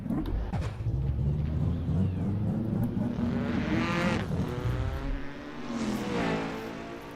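Race cars in Assetto Corsa roar past one after another, engine tones rising and falling as each car sweeps by, loud and then fading toward the end.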